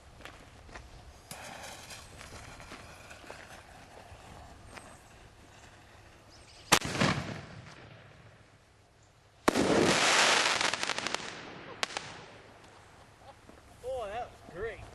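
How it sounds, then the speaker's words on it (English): A fireworks canister shell launches from an elevated cannon outdoors with a sharp boom, followed by a louder crackling burst and further pops, under people talking nearby. "So this is a canister shell coming out with an elevated cannon."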